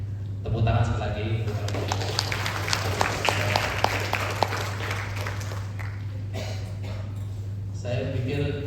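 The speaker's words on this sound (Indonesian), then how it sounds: "Tepuk tangan sekali lagi" Audience applause at an art event honoring an artist's works, a steady wash of clapping from a gathered crowd with a few louder claps standing out.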